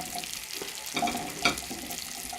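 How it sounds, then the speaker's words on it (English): Sliced chorizo rounds, skin removed and about a centimetre thick, crackle and sizzle in a hot pan, with soft pops and a few louder stirring clatters over a steady frying hiss. "Pile your chorizo into your hot pan."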